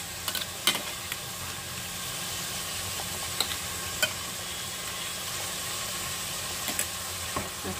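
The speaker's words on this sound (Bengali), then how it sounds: "এরপরে দেখো দিয়ে দিচ্ছি আদা রসুনের পেস্ট" Ginger-garlic paste fries in a hot pan with turmeric for mutton handi, a steady broadband sizzle broken by occasional sharp crackles and spoon scrapes, close and moderately loud with no talking.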